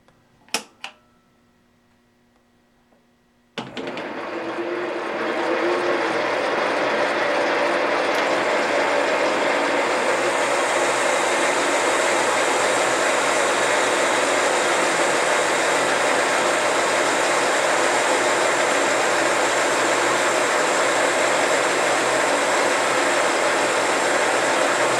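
A metal lathe runs continuously with its lead screw reversed while the workpiece spins the same direction, a steady mechanical whir after a few sharp clicks and a quiet lead-in.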